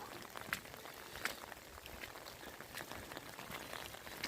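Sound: rain falling in the morning, Kashmir valley

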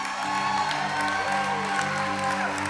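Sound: audience clapping

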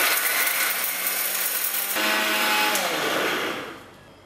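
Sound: electric mixer grinder grinding spice masala finely

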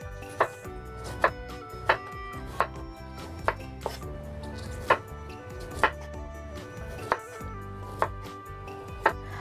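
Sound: chopping carrots with a knife

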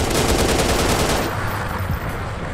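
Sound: gun firing in a video game

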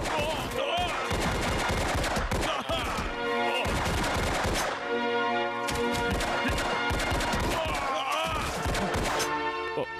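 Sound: gunfire in an action film

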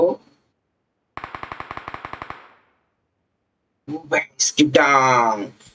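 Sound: gunfire from BGMI video game

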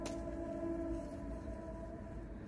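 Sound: train passing nearby

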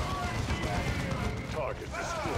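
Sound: gunfire in the video game Dawn of War II

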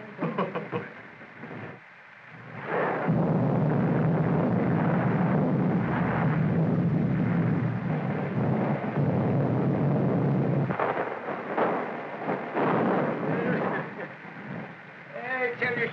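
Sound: thunderstorm with thunder and rain

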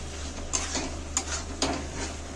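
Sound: potatoes frying and being stirred with spices in a pan

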